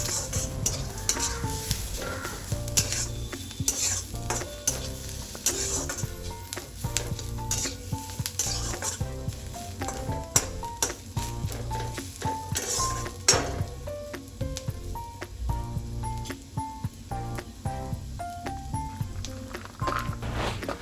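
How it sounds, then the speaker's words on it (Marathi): Onions frying and stirred in a pan for Hyderabadi chicken, with a continuous loud sizzle, rhythmic scraping of the spoon against metal, and occasional clinks of utensils throughout. "आता आपले कांदे चांगले भाजून झालेले आहेत."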